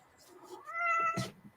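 Harley the cat gives a single drawn-out, loud and close meow that rises and then falls, with a soft chirp at the end.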